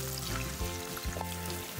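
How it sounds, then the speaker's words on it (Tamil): A handful of small shallots sautéing in hot oil in a pan, a steady close sizzle with faint bubbling and a soft pouring texture running through a brief moment, no voices. "சின்ன வெங்காயம் ஒரு 10 சின்ன வெங்காயம் எண்ணெயில் வதக்கணும்"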